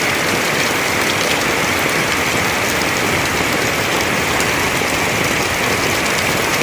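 Heavy rain pours steadily on a tropical farm, a dense, loud, unbroken hiss of drops drumming on surfaces with no pauses and no voices.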